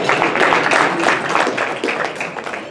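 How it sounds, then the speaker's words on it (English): A Rotary Club meeting audience claps together for graduates, a dense, sustained round of applause from a roomful of people that stays loud throughout and tapers only slightly. "Give yourself, if you're a graduate, a round of applause."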